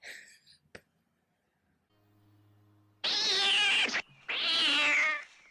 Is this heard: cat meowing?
yes